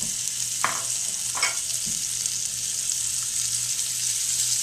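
Turkey sausage sizzles steadily in pan drippings over medium-low heat, a constant close hiss with a few soft clinks and shifts as the links are placed and moved.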